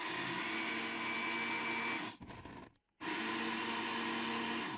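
Electric blender running on a kitchen counter, a loud continuous motor whine that cuts off briefly and then starts up again at full speed.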